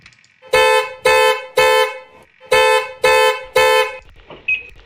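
Audi Q7 Quattro car alarm in Roblox, sounding loud, repeated honking blasts in two sets of three evenly spaced pulses with a short gap between them, then a fainter trailing beep.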